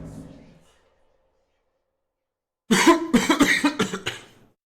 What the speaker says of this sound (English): That's like the first time I've coughed on stream today.